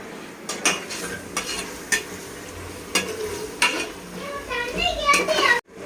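Umbrella-cut chicken leg pieces fry in hot oil with a busy sizzle, while spoon stirs and clinks of utensils land on top and people talk in the background.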